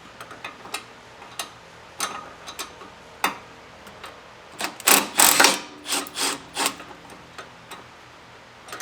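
A ratchet tightens a bolt on a lowered Honda S2000, steady ticking clicks spaced about a second apart, then a faster, louder run of ratcheting strokes before it slows to a few scattered clicks.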